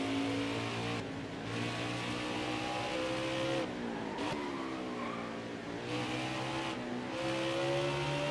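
A NASCAR stock car in NASCAR Heat 5 on a road course keeps its engine loud and steady, its pitch rising and dropping through repeated throttle lifts and revs, with a brief squeal partway through.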